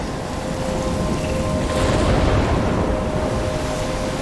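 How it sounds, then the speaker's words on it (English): Steady heavy rain pours throughout in a stormy scene from the video game Life is Strange, with a low rumbling swell of thunder rising near the middle, all at a constant loud level with no voices. "I'm trapped in a storm?"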